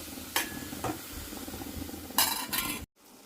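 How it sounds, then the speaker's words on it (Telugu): Three tomatoes drop into a hot pan of frying ridge gourd peels for a chutney, giving a steady sizzle with a few sharp clinks of a metal spoon against the pan. "ఈ మూడు టమాటాలు వేసేస్తున్నాం ఇవి కూడా మగ్గాలి"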